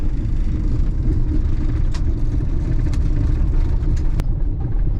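A van rattles along a bumpy desert track, its engine rumbling loud and steady under constant low road noise, with occasional sharp knocks and clunks from the body.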